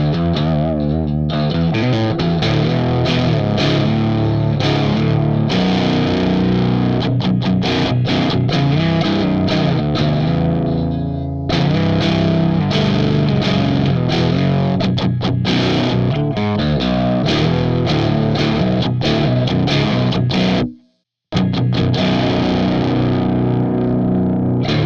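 Electric guitar played through an EHX Tortion JFET overdrive pedal in its third mode, dense distorted metal riffing with chugging palm-muted rhythms, loud and continuous apart from one brief silence near the end.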